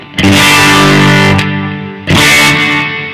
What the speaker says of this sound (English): So the Echo Baby by Love pedal, it just gives me a little subtle slap.